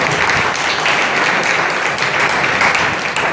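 Students at an ITI event marking World Youth Skills Day in Julana applaud their teachers with dense, steady crowd clapping that holds at a constant loud level throughout.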